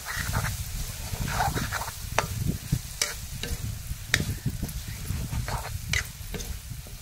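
Spices and mango chilli powder frying in a pan for a Telugu curry, giving a steady close sizzle with stirring scrapes and clinks throughout.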